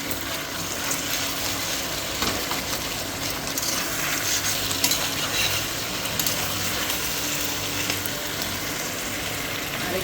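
Food fries steadily in a wok of hot oil, a continuous fine crackle and hiss with occasional scraping from stirring, moderately quiet and close, with no voices.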